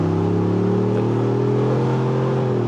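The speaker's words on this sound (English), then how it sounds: "half throttle, or just a little bit under half throttle, feels stronger than flooring it" A 2025 Ford Bronco Stroppe Edition engine pulls at about half throttle on the road, a steady, loud, close drone whose low harmonics rise slowly and smoothly throughout, with no talk.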